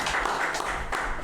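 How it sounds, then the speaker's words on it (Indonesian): Audience clapping at an Indonesian podcast launch event, a brief burst of scattered applause at moderate volume with faint background voices. "Boleh tepuk tangan ini."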